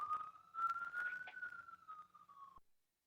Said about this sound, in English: at some point, the sounds of a siren.